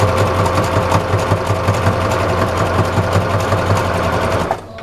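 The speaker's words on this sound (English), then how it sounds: "I'm sewing standing up." Sewing machine stitching homemade dish washing sponges, a loud close rapid steady rattle running nonstop until it stops just before the end.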